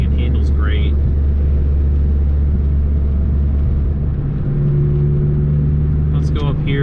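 A Dodge Neon ACR driven on the road gives a steady low engine and road rumble that stays loud and close throughout, with brief higher tonal squeaks at the start and end.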